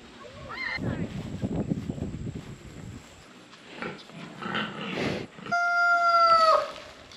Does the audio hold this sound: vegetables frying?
no